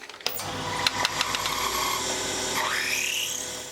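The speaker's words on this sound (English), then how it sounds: "I'm now going to run a 6mm drill down halfway through the block" A 6mm drill whines into a metal clamp block for a Moto Guzzi Le Mans III clip-on after a few sharp clicks, its pitch rising and shifting as it bites, close and fairly loud.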